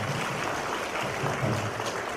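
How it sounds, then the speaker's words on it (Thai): Applause at a Thai Red Cross award presentation in Nakhon Pathom, a steady dense patter of many hands clapping throughout, fairly loud and continuous with a slight hall echo. "ขอเสียงปรบมือในการมอบรางวัล"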